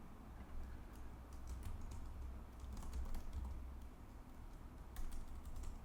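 Quiet typing on a computer keyboard, soft scattered key clicks in irregular bursts over a faint steady room hum, no talking.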